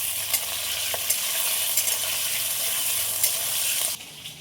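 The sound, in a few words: capsicum being stirred while frying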